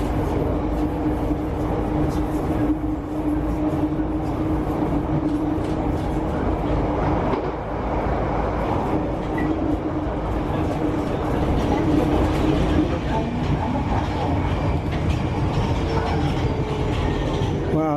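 A southbound Virgin train rolls past with a steady, loud rumble and rail clatter that fills all eighteen seconds at an even level, a voice faintly present in the background.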